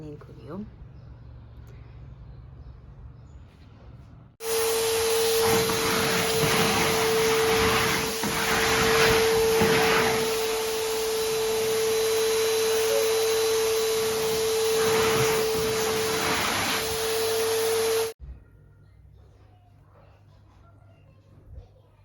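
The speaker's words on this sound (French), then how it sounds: "je vais tout aspirer" A vacuum cleaner in a bedroom starts abruptly, runs as a loud steady whine with a high tone for about fourteen seconds while being pushed around, then cuts off, leaving quiet room noise.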